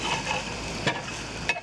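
Chicken of the Woods mushrooms frying in a small egg pan, a close, steady sizzle with two brief stirring scrapes.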